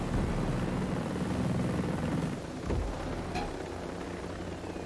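Helicopter flying in the Ghost Recon Breakpoint video game, a steady loud rotor and engine drone filling the whole clip with no talking over it.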